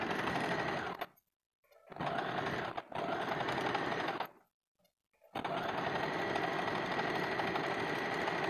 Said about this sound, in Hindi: पहले हम इसको सिलाई कर देते हैं।